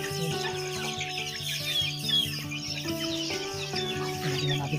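Chickens clucking in a steady, busy chorus, close by, with short repeated calls overlapping throughout.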